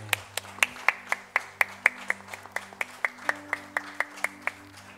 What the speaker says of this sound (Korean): 다시 한번 우리 이재훈 성도님께서 자리에 돌아가실 때 큰 박수 부탁드리겠습니다